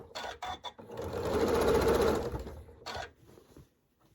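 Scrap quilt fabric feeds through a sewing machine in a few quick stitch bursts, then one longer swell of steady whirring, close up, before fading to quiet.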